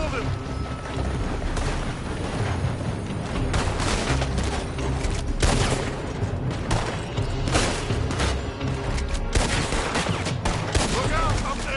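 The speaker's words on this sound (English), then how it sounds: "They're shooting from that building!" Gunfire shot from a building in Red Dead Redemption 2, a continuous barrage of overlapping shots with mechanical clatter, fairly loud and dense throughout, with faint voices now and then.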